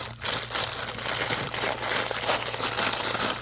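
Plastic packaging rustles and crinkles continuously for a few seconds, a close, dense crackling texture with a faint low hum underneath and no talking.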